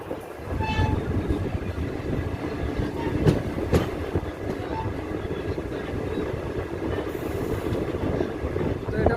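The Paharia Express passenger train (15722) rolls steadily along the tracks toward Digha, its continuous rumble and rattling wheels close and loud, with a few sharp clanks and no talking.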